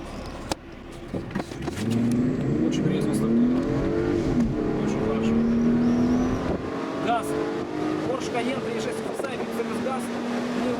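A Porsche Cayenne 3.6 FSI accelerating from a standstill, its engine note rising steadily through several gear changes from inside the cabin, with people talking over the engine.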